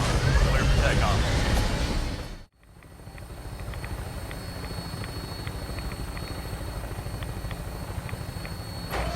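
A helicopter takes off in the video game Fallout 4. A loud rotor and engine drone cuts out briefly, then returns as a steady, rumbling whir under voices.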